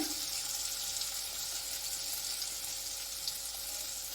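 Grated ginger and tomato fry in a pan, giving off a continuous, even hiss of sizzling at moderate loudness with no talking.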